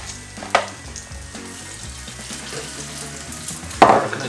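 Fries dropped into a frying pan, a continuous sizzle and hiss with two sharper splashy bursts near the start and end, close and fairly loud.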